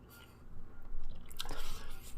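Close, moist chewing of McDonald's breakfast pancakes topped only with butter, with soft squishy bites and a few crunchier smacks building toward the end; no talking.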